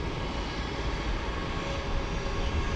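A JetBlue airliner takes off at San Juan's Luis Muñoz Marín International Airport, a continuous broad engine roar heard steadily and fairly close without any talk.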